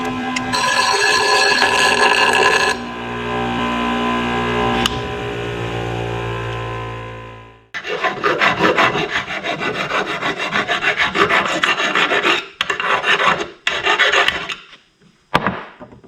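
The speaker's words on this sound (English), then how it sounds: "Now to the grinder." A grinder works on a homemade speaker build. A sustained tonal whine gives way to rough, rasping bursts of grinding that stop and start in short runs, then cut out near the end.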